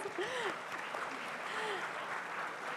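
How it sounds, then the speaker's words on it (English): Applause from the audience at an awards ceremony, a steady wash of clapping that lasts the whole moment at moderate volume, with faint voices mixed in underneath. "A huge round of applause."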